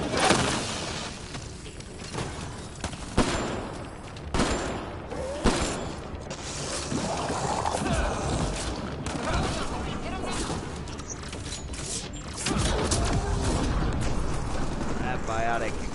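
Biotic explosions and gunfire from the Mass Effect Andromeda video game: a dense, loud barrage of booms and shots that continues through the whole stretch, with heavy impacts rising and falling.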